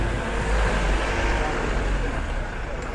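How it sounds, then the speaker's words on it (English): Street traffic in the town of St Helier, Jersey, a steady broadband rumble of passing cars and heavier vehicles close by, with a brief hint of voices underneath. "Bit of traffic here."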